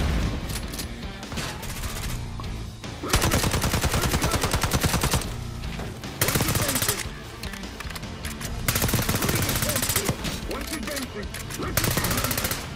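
Shotgun loaded with fire rounds blasting in Call of Duty Black Ops 6, loud rapid bursts of gunfire in repeated volleys with short pauses between, mixed with game sounds.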